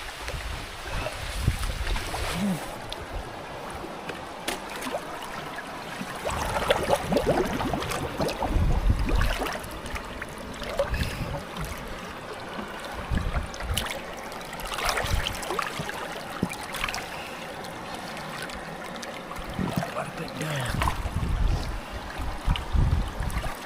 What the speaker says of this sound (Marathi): बाबा रे बाबा पाऊस आला एकदम बेकार